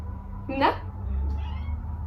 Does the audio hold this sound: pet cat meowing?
yes